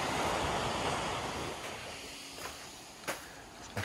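Sea waves wash steadily onto an empty beach in Spain, a broad continuous rush of surf with some wind buffeting the microphone and a few small splashes toward the end.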